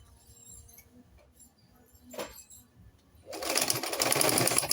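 Sewing machine stitching skin illusion net for a deep neckline, starting after quiet handling and a brief rustle, then running in a loud, fast continuous whir close by.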